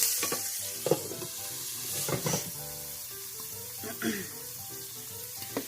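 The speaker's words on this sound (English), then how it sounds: "I am just sauteing some onions up right fast." Onions sautéing quickly in a pan, a soft sizzle under a few sharp scrapes and clinks of a utensil against the pan, near but fairly quiet, with faint background hum and no talking.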